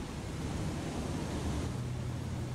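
A waterfall splashes inside a cave in Techtonica, a steady broadband rush of falling water that holds evenly throughout with no voices.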